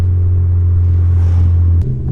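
A Ford Fiesta ST with a 1.6 litre turbo engine accelerates hard, a loud, deep engine rumble heard from inside the car, holding steady before a sudden shift drops the tone near the end.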